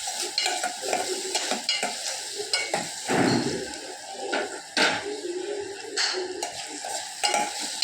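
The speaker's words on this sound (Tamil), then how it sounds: "தூள் இன்ச்சு போட்டு வெங்காயம் நல்ல நிறம் மாதிரி வர அளவுக்கு வதக்கணும்" Onions with chili powder are sautéed in a pan, a spoon scraping and stirring in repeated strokes over a steady frying sizzle, close and clear, with occasional clinks of metal on the pan.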